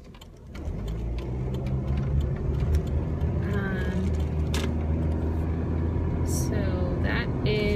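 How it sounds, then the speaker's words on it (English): A car slowly pulls out nearby while its engine gives a steady low rumble throughout. Faint clicks and other passing traffic sounds come and go, and no one speaks. "This car was taking forever to pull out"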